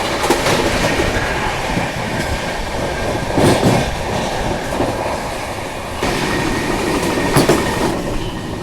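Subedarganj Dehradun Express running on rails, heard from inside the train: a loud, steady rumble of wheels and carriage with rhythmic clickety-clack over rail joints and brief metallic squeals, and no voices.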